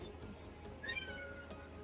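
A single short cat meow rises briefly out of a quiet indoor room, soft and fairly close.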